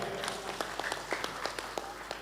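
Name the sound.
crowd applause for festival organizing committee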